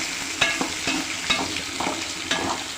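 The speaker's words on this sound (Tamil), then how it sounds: "பூண்டு, சின்ன வெங்காயம், வரமிளகா, கடலைப்பருப்பு போட்டு நல்லா வதக்கிடணும்." Pirandai (adamant creeper) sautéing in a pan with garlic, shallots, dried chilli and chana dal, giving a steady close sizzle broken by several sharp stirring scrapes, with no talk.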